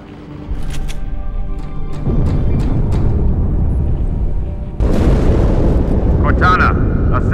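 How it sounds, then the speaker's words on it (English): An explosion aboard the ship Athens in Halo 2 booms as a loud, sustained rumble with a fresh blast surge near five seconds, low roar filling the whole stretch beneath speech. "That explosion came from inside the Athens."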